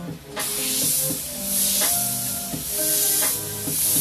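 An airbrush sprays paint onto a T-shirt with a steady close hiss. Faint tonal music plays underneath. No voice is heard.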